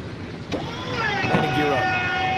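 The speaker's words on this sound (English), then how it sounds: "Now retract the landing gear." Landing gear retracting in a Pacific flight simulator game, a short mechanical clunk followed by a rising whirring motor tone, with a voice speaking over it.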